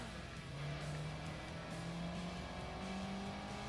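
A race car in Gran Turismo 2 drives with a continuous, fairly quiet engine drone, its pitch rising and settling as it accelerates, with a hint of tire squeal.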